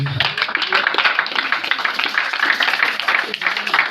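A church congregation at Buisson Ardent church in Lyon applauds during worship, producing dense, steady clapping throughout with voices mixed into the crowd noise.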